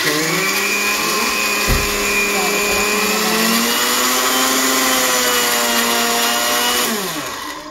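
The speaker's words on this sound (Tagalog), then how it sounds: "Blender na ulit." A blender grinds cacao powder mixed with sugar, a loud steady motor whine that runs on continuously at close range, then winds down at the very end.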